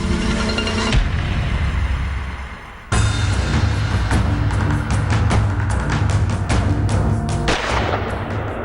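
Gunfire-like sound effect for a report on a shooting in a school classroom: loud repeated sharp bursts and booms over dense rumbling noise, with a brief drop before a sudden loud resumption and a series of cracks.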